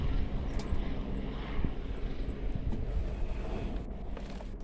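Medical helicopter passing over a potato field, a steady low engine drone and rotor rumble overhead with some wind noise on the microphone.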